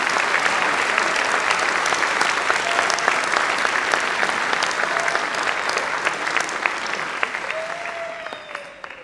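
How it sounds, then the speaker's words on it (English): Sustained applause from a seated audience at an evening scholarship ceremony, thanking donors, many hands clapping steadily and densely for about nine seconds before tapering off near the end. "I'd like to give a round of applause to our donors"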